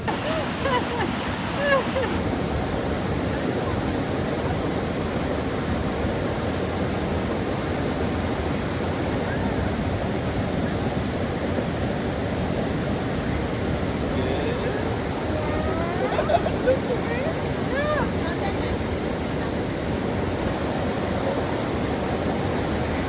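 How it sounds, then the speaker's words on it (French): Water flowing over small cascades in a river amid a spring landscape, a continuous broad rushing roar that stays steady and fairly loud throughout. "Le paysage est magnifique, avec des petites cascades et le bruit de l'eau qui s'écoule."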